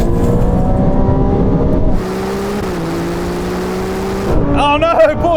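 Supercars including a Ferrari 296 GTB, McLaren 750S, Lamborghini Huracán Performante and Porsche 911 Turbo S accelerate hard in third gear from 50 in a roll-on drag race, a loud sustained engine roar rising in pitch with a gear change near the end.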